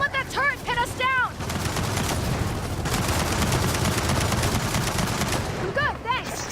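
Turret gunfire in Gears of War 4 roars as a dense, continuous burst of rapid shots filling the battlefield, with chirping voice-like calls over the start and end of the clip.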